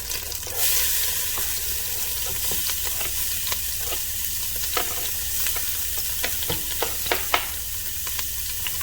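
Chopped onions sizzle steadily in a pan for shrimp Alfredo sauce, a loud, even frying hiss with scattered stirring clicks and scrapes throughout and no voices.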